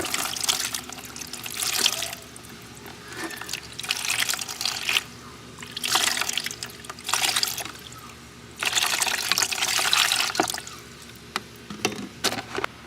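Running water rinses oxidation off a Saab car battery post, splashing in repeated bursts of a few seconds each with short quieter gaps between them, close by with no talking.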